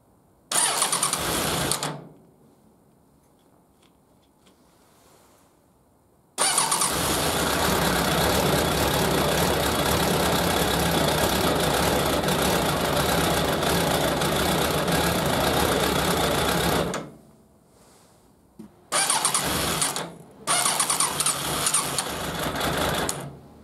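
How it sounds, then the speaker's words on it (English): A Suzuki Bandit 1200 motorcycle engine, just primed after a fuel tank problem, cranks in short loud bursts, then catches and runs in a long steady roar before cutting out, followed by more brief cranking. "And when this is done, the engine should start."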